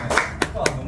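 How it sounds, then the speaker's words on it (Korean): A few brief, sharp hand claps ring out, about three separate strikes spaced unevenly over under a second, near and moderately loud, at a celebration for people who passed an electrical engineer licensing exam. "선생님, 박수 한번 주십시오."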